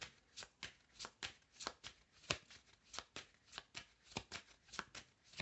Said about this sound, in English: I'm just going to go on and shuffle up here